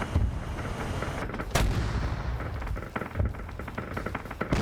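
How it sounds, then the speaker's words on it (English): Heavy battleship cannons firing in a Warhammer 40K video game battle against Orks, a dense barrage of loud booming blasts and overlapping gunfire rolling continuously with sharp repeated impacts. "I've got giant freaking battleship cannons on this puppy."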